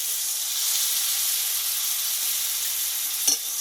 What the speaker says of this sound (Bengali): পেঁয়াজ মশলার সঙ্গে একসঙ্গে মাছটা আমি ভালো করে ভেজে নেব